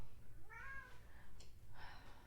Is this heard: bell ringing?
no